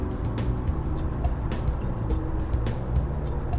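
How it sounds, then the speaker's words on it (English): Steady low rumble of road traffic in the background, continuous and moderately loud, with faint passing vehicles and no talk. "if you guys do hear any traffic noises in the back, I do apologize"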